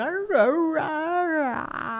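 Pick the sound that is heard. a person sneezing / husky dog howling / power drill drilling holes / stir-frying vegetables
husky dog howling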